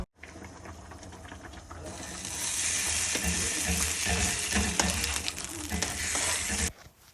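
Fish fries in a pan with a little oil. The sizzle starts moderate, then swells into a loud, steady hiss close by before cutting off, with faint voices in the background.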